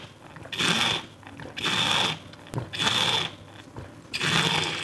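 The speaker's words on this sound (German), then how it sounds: "ich trinke jetzt mal nochmal einen großen Schluck Wasser" A person taking a big gulp of water: four evenly spaced wet, gurgling swallowing bursts, close and fairly quiet, with brief pauses between them and no talking.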